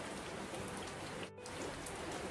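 Rain falls steadily outdoors near an old stone house foundation, a dense, even hiss of drops with a brief dip partway through, and no talking.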